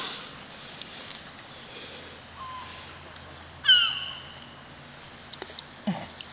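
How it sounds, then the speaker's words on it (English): A seagull that has landed near people gives one sharp, harsh squawk midway, set against quiet background noise with a few faint rustles and small knocks. "That bird's gonna peck your freaking eyes out."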